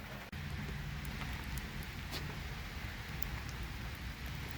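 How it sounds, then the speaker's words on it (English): Rain falling during a wet delivery day in Potsdam, New York, a steady broadband hiss of drops with faint patters and a low rumble underneath, continuous and even, with no voices. "Walking in the rain."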